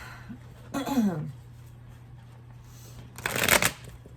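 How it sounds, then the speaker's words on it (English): A deck of Rackham tarot cards being shuffled in two close, crisp riffling bursts separated by a quiet pause. "Let me give you a shuffle test."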